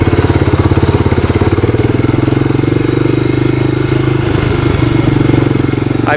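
A 1985 Honda ATC250SX three-wheeler's engine runs steadily up close, a loud, rapid, even small-engine chug that holds throughout with slight rises in revs, no talking over it.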